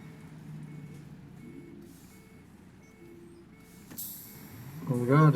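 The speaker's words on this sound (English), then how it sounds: "Bus decided it wanted to set off before I wanted it to." A bus in the OMSI 2 driving simulator sets off, with a sharp hiss of air brake release followed by rising engine noise near the end, over a low idling rumble and faint reversing-type beeps.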